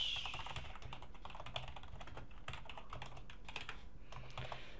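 Java code is typed on a computer keyboard in a quiet room, a close run of quick, uneven clicks and key taps with brief pauses between bursts.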